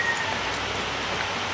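Rain falls steadily as a dense, even hiss of drops on surfaces, with no other distinct sounds in the short stretch.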